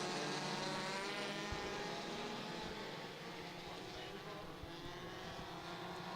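Race cars at Irwindale speedway roar past in a pack, a loud, continuous, distant engine drone with a mix of shifting tones and faint bursts, blurred by crowd and track noise.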